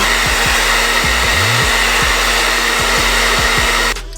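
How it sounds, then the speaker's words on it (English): A hair dryer blows steadily and loudly at close range, drying Posca paint on custom shoes, a constant whooshing roar that cuts off abruptly at the end. "So I'm gonna use a hair dryer to, you know, quicken the process."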